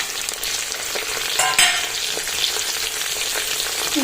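Tomato and chopped mushrooms for mushroom biryani fry and get stirred in a pan, a steady close sizzle broken by a few scraping stirs with the spoon, with no voices.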